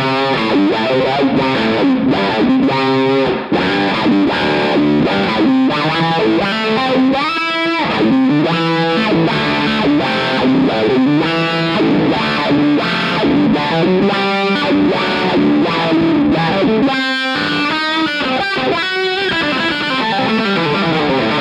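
Distorted electric guitar played through a wah pedal on a pedalboard, the sweeping filter rising and falling over sustained chords and riffs, loud and continuous with no talking.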